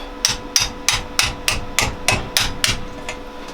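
Hammer tapping a metal turbo manifold pipe on a GS500 scrambler build, about ten evenly spaced, sharp, close metallic knocks with no talking.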